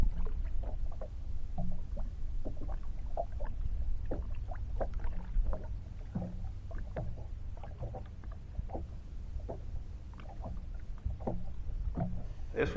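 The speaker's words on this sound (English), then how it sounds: "You can hear the wind blowing pretty good." Gusty wind buffets a small fishing boat on Lake Erling, a steady low rumble with scattered knocks and splashes of water against the hull throughout.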